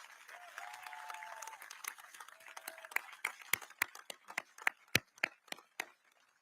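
Audience applause at a West Point Garrison change of command ceremony, a modest scattering of claps that thins out into individual sharp hand claps, moderately near, with faint voices underneath.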